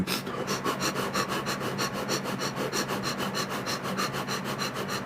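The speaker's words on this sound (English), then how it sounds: "So some of you might be more towards like a fire style breathing, right? You'll have a more aggressive breath." Fast, forceful fire-style breathing in a breathing demonstration, with rapid rhythmic sharp inhales and exhales repeating about five times per second, close and steady throughout.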